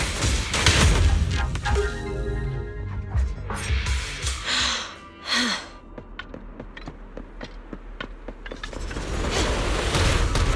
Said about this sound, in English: That meteor seems to have blasted open a passage.